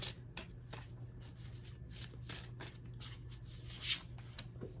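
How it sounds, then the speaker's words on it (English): Tarot cards are shuffled by hand, a quiet series of soft riffling flicks and slaps in an uneven rhythm over a low background hum. "I'm going to pick one card to end the reading."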